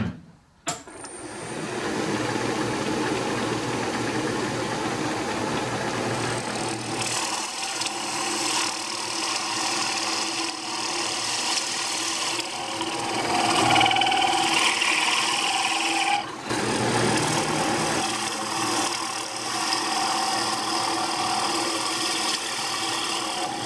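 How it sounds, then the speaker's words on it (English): A drill boring through a plastic pegboard from the back into a wasteboard, a loud steady whirring drone that runs close and continuous for about twenty seconds, with a brief dip partway through and no talking. "I'm drilling through from the back of this center and drill chuck holder"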